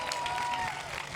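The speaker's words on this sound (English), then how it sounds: "can we have a big round of applause for the three of them?" An audience claps at an interview event, a brief burst of dense applause from a crowd heard at moderate distance.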